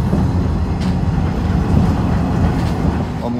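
Tram travelling along a single-track rural line near Arad, a steady loud rumble and rattle of wheels on rails heard from on board, continuous with faint clicks.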